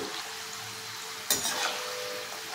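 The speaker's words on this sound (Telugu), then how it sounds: "చూడండి, వేగిపోయినాయి కదా, నేను ఇప్పుడు తీసేస్తున్నాను." Rice flour gulla snacks fry in hot oil with a steady, close sizzle, broken midway by a brief clatter of stirring or lifting the pieces.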